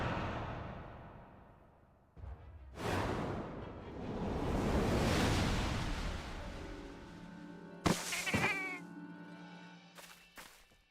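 A cat-like creature in Final Fantasy XIV gives a drawn-out meowing roar amid swelling game sound effects and music, with sharp whooshes and further cries near the end.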